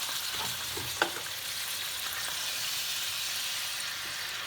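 Chicken legs and shallots sizzle steadily in a pan with white wine, a soft continuous frying hiss with one brief utensil clink near the start.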